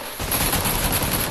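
Rapid bursts of gunfire in a shooting video game, loud, dense and continuous after a brief quiet start, like sustained automatic fire.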